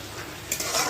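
Chhatu kundri, a mushroom dish, fries in a pan with a continuous close sizzle, and a spoon clinks and stirs partway through.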